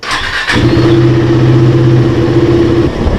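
A KTM Duke motorcycle engine runs steadily for a few seconds with a strong, even low hum, loud and close, then cuts off abruptly near the end. A short burst of noise comes just before it starts.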